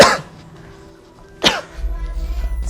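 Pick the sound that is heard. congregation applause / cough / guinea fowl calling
cough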